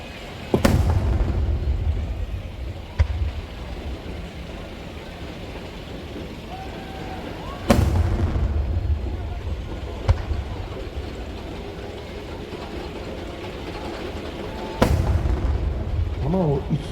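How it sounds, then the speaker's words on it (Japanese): Disc fireworks with three differently coloured rings at the Nagashima Onsen fireworks show: three loud booming bursts spaced several seconds apart, each followed by crackling and lingering rumble, with a quieter pop between them. "3つの色違いのリングをデザインしましたディスクという花火です"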